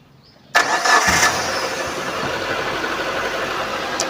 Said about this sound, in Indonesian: Sekarang kita coba starter, kita dengerin suaranya.